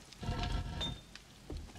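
Steady rain falls in the survival video game 7 Days to Die, a continuous soft hiss with a few louder swells throughout.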